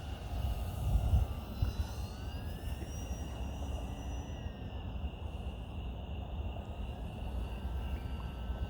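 A Flite Test Simple Stick RC plane flying at night, its electric motor whine sweeping steadily in pitch overhead at moderate distance, continuous over a broad low rumble of outdoor wind noise.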